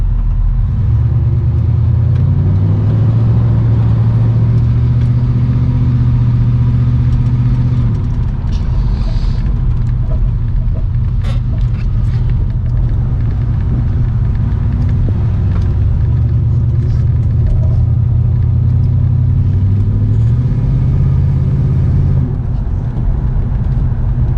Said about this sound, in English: take it around the lot, show you driving